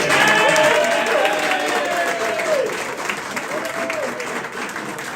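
Loud applause and cheering from a crowd at a sports club's awards night, voting for a 'donkey of the year' award, swelling at first and then slowly fading over several seconds.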